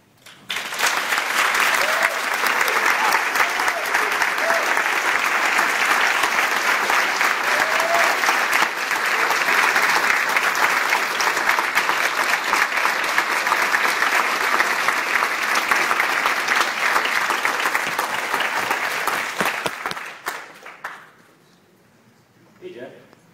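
Sustained applause from a large conference audience after a talk on worldbuilding fills about twenty seconds, loud and even, then stops abruptly and leaves near silence.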